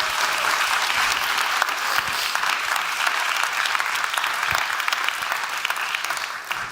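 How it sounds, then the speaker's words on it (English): An audience at the Global Solutions Summit 2023 applauds competition finalists with sustained, dense clapping filling the hall for several seconds, tapering slightly at the end. "Let's give them all a big round of applause."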